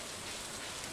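Steady rain in the farming game Stardew Valley, a dense even hiss of falling drops with no pauses or voices, filling the whole moment at a fairly soft level.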